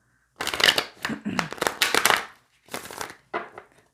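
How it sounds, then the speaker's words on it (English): A deck of tarot cards being shuffled by hand in a series of close, crisp riffling bursts, each a second or less long, separated by short pauses. "but I will also shuffle more on camera"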